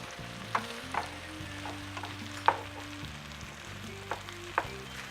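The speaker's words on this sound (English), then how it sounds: "I'm gonna slowly start to stir in some of my cooked rice that I cooked earlier, specifically for this dish" A spoon stirs and breaks up cooked rice in a hot pan for chicken fried rice, giving a low sizzle with several sharp scraping knocks against the pan over soft background music.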